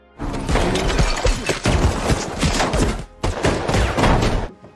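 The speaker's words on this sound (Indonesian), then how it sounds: "terjadilah baku tembak di antara mereka" Rapid gunfire in a mafia film shootout scene, dense loud bursts of shots with thuds and impacts filling nearly five seconds, brief gaps between volleys, no talk.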